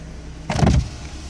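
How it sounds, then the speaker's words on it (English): Power window motor on a 1997 BMW 318 E36 runs in a short, close whirring burst lasting about a third of a second, rising out of a quiet car interior hum, with no talking. "press it once and you can see the windows go down"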